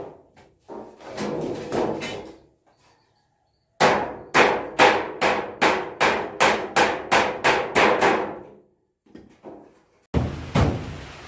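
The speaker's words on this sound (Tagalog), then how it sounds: "Yun po, nagpupukpok." Repeated sharp hammer blows on a corrugated metal roof ring out, a rapid series of a dozen or so strikes with brief pauses, loud and close.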